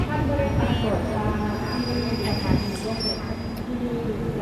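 Rapid train 135 runs through the Pha Sadet and Hin Lap tunnels, its wheels grinding in a steady rumble with thin, high squeals rising over it now and then.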